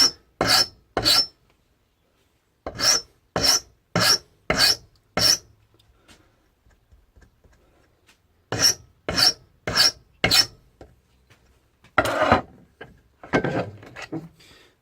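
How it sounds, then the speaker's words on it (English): A hand file rasps a notch into a piece clamped in a vise during axe sheath making, with groups of sharp, evenly spaced strokes separated by short silences and some quieter handling noise. "I'm gonna need a finer file for this"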